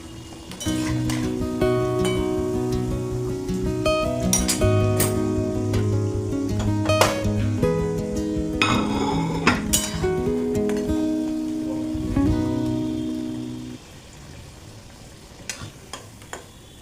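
Puris, rolled potato-stuffed puffed breads, deep-fry in hot oil with a steady, busy sizzle and crackle. Occasional clinks and stirring knocks sound over it, and the bubbling fades out near the end.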